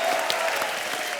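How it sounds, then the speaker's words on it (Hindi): Studio audience applause on a TV comedy show comes through as a short, dense burst of many hands clapping at an even, sustained level. "एक बार जोरदार ताली भिड़ो लोग।"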